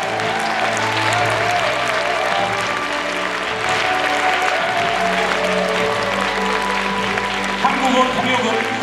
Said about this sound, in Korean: 큰 감사의 박수와 환호를 부탁드리겠습니다